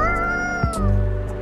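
A cat meows in the video game Coffee Talk, one clear, drawn-out, close meow with no talk over it.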